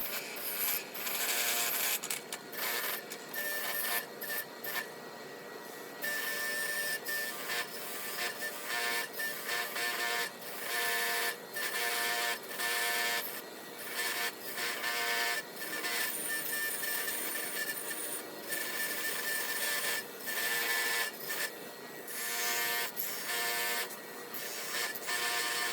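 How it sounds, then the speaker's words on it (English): A wire wheel scrubbing the casing of an induction motor being cleaned up, a steady harsh abrasive rasp that runs for the whole stretch with brief dips and restarts, close and loud, with no talking. "Now for the wire wheel."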